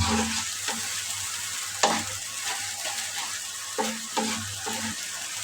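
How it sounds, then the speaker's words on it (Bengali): Spice paste sizzles and fries in hot oil for a Bengali radish and fish curry, with a steady crackle broken by several scraping stirs of a spoon against the pan. "এবার আবার নেড়ে সেড়ে ভালো করে মশলা কষাই নিতে হবে"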